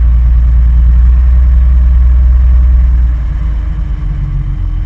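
A Bristol VR double-decker bus engine runs at a loud, steady low rumble while air pressure builds, easing slightly toward the end, close up with no talking.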